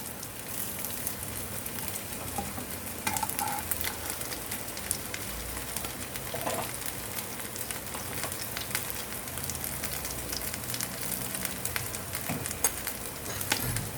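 Potato patties bound with flattened rice shallow-fry in a pan with a constant crackling fizz, like light rain. The sound is moderately loud, with scattered small pops and no voices.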